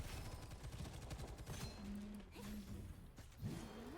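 A rifle in Gunfire Reborn fires in fast repeated shots in a very quiet game mix, followed by brief tonal effect sounds and a rising whine near the end, with no talking.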